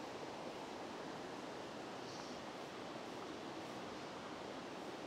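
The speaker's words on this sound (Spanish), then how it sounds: "el agua que corre por tu oído, el sonido del río" Running river water, a constant soft broadband rush that stays even and faint throughout, with no voices or other sounds over it.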